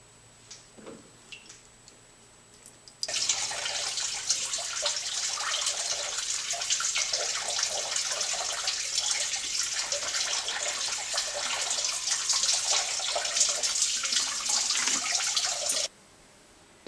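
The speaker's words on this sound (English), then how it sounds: "the idea is just to run water through the radiator until you see it running clear out the bottom" Water from a hose pours steadily through a Honda Prelude radiator during a flush, a loud continuous rush that starts abruptly after a quiet moment and cuts off before the end.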